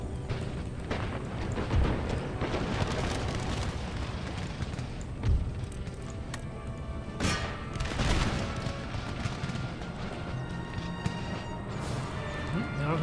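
A battlefield in Empire Total War: scattered musket volleys and booming artillery rolling across a long stretch, with heavier blasts standing out against constant crackling combat noise.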